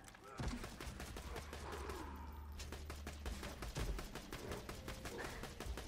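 Enemy gunfire in the video game Borderlands 2, a rapid run of sharp shots crackling steadily through the whole stretch over a low rumbling game bed.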